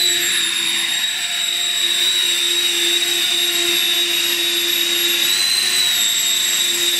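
A large multi-engine RC model aircraft called Dragon drones steadily at a model airfield, a loud high-pitched whine of many small motors holding level throughout with no talk.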